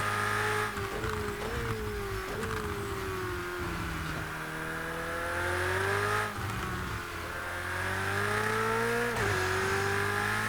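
A Ferrari 488 GTE in a racing video game revs and shifts through the gears, its engine note climbing and falling repeatedly, loud and continuous with no talk.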